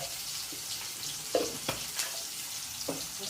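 Spices, cumin and turmeric among them, fry in a pan with a soft, continuous sizzle. Occasional light scrapes and taps of a stirring spoon come through, fairly quiet and close, with no talking.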